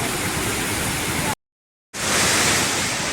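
Athirappilly waterfall in Kerala roars as a loud, dense, continuous rush of falling water, broken by a sudden half-second cut to silence before the roar resumes.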